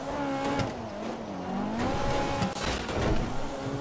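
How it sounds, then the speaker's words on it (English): A fast car in the video game GTA 5 races along, engine revving and wavering loudly with tires squealing in bursts throughout, close and continuous. "I'm glad this car is fast."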